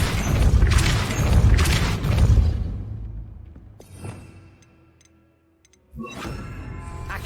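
A Depulso spell cast in Hogwarts Legacy on PS5 lands as a loud booming whoosh with crashing impacts, then dies into near silence broken by faint ticking mechanical clicks before a fresh rumble and clatter returns.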